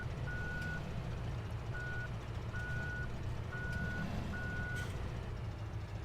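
A farm vehicle in Farming Simulator 17 sounds five evenly spaced reversing beeps over a steady low engine drone, clear and close.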